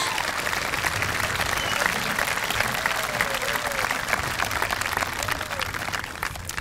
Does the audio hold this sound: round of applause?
yes